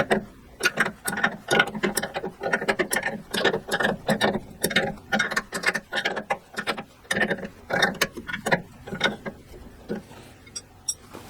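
A ratchet tightening the brake fittings on a 1969 VW Beetle, rapid repeated clicks in quick bursts with short pauses, close and clear, no talking.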